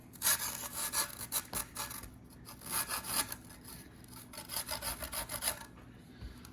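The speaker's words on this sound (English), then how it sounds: "I'm going to grate in a little ginger and a little garlic." Fresh ginger and garlic are grated for a keto family meal, making a close rhythmic rasping of quick repeated strokes in several bursts with short pauses.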